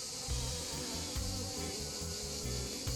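A steady, dense hum of many honeybees buzzing close by inside an Apidea mating hive, continuous and fairly quiet, with occasional low handling knocks underneath.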